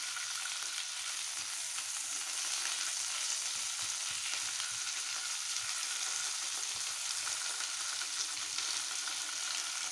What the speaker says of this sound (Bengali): এমনি করে চারধার ঘুরিয়ে ঘুরিয়ে ফ্রাই করে নিতে হবে